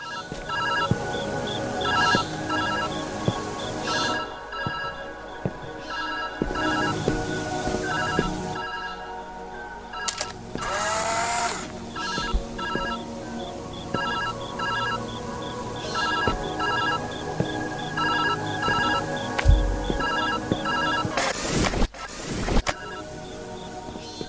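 A telephone rings repeatedly in the puzzle video game Viewfinder, a steady electronic ringing pattern that persists throughout over an ambient game soundscape with occasional swooshing effects.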